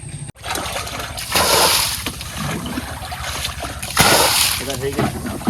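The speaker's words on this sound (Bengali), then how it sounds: "সে জল ফেলতেছি বোটের" Water bailed out of a small fishing boat on a tidal canal, heard as repeated sloshes and splashes tossed over the side, close by, with people talking throughout.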